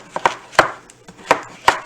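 Knife slicing an onion on a cutting board while making chicken curry with cauliflower rice: about five crisp, close cuts at an uneven pace, with no talking.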